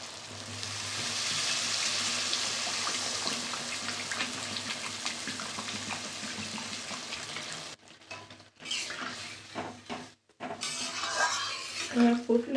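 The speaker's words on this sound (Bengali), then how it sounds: "এবার আমি জল দিয়ে দেব।" Water is poured into fried, oil-releasing masala for a hilsa fish curry, making a loud steady rushing hiss, then the sizzle breaks up into bubbling and clatter after several seconds, close by.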